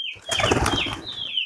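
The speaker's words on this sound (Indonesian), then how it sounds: "saya mau keluarin dulu nih merpati punya saya nih" A pigeon flaps its wings in a quick, close burst as it is lifted out by hand. The fluttering runs through most of the brief moment, and a thin squeak rises around it.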